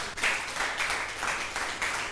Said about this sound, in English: A round of applause for our beautiful housemates.